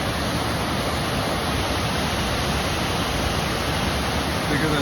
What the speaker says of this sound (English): Same waterfall I just saw, but on the other side of the river, with a much better view.